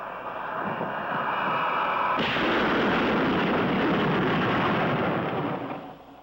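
A loud, sustained jet aircraft roar returning after supersonic flight builds into a broad, rumbling blast, thundering close by, then tapers off at the end.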